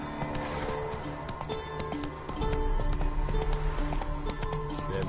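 Rhythmic hoofbeats of the horse Roach galloping in a Witcher video game, steady clip-clop that grows louder and heavier midway, under a low game soundtrack with no talk.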